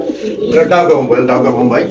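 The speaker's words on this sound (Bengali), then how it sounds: "এখানে আছে একটা বোম্বাই কবুতর" A Bombay pigeon at a pigeon sale coos in a steady, close, mellow warble that continues without a break, with people talking nearby.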